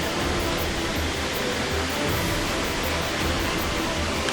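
The Dharapalli waterfall in the hills near Kakinada roars in a dense, unbroken rush of falling water, loud and constant, with no voices.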